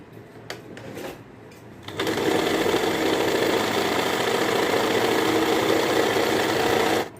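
An Usha Stitch Queen sewing machine doing a straight stitch, with a few light clicks at first and then a loud, steady whirring run of the needle close by that stops abruptly.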